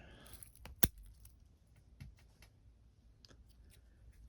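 Scissors snip Chinese elm bonsai branches during a summer pruning, giving one sharp, close cut followed by a few faint clicks and light handling noises in a quiet room.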